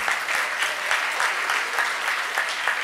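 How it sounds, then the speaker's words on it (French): Graduation-ceremony audience clapping for the teachers, a dense, even round of applause with rhythmic hand claps throughout, loud and close, with no voices. "je pense que vous pouvez les applaudir"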